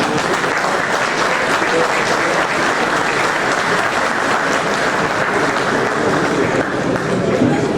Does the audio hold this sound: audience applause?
yes